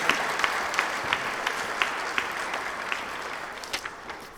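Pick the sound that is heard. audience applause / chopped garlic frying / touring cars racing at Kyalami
audience applause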